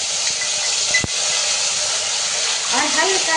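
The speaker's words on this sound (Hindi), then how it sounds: "सबसे पहले हमने जो सिलबट्टे में हरी मिर्च और लहसुन पीस रखी है इसे डाल देंगे" Green chili and garlic paste, ground on a stone slab, drops into smoking hot oil for a Pahadi kulthi (horse gram) dal and sizzles steadily, with a brief sharp clatter near the start and the hiss swelling toward the end.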